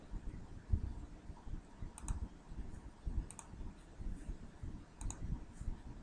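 Button presses on a calculator come as a few sparse, light clicks in small clusters, close and quiet, with no talking.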